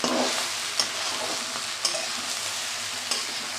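Kochur loti (taro stolons) frying in a pan with a little added sugar, a steady close hiss and sizzle with a few sharp stirring scrapes, no talking.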